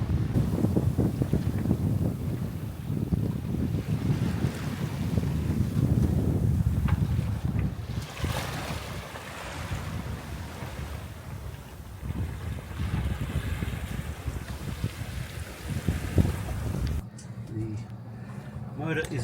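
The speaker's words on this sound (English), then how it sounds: "The motor is overheating," Sailboat motor running and overheating at sea between Port Vila, Vanuatu and Noumea, New Caledonia, heard as a continuous low rumble mixed with strong wind buffeting and water wash, with a person speaking over it.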